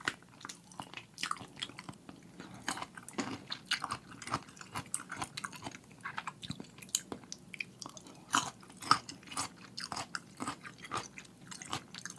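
Close, crisp crunching and biting on fried BHC chicken skin during a mukbang, with irregular loud bites and chewing throughout and no talking.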